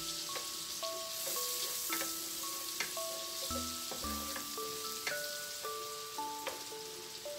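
Garlic sautéing in a pan for carbonara gives a soft, constant sizzle and crackle, quiet and close, with no talking, while a light melody of sustained tones plays in the background.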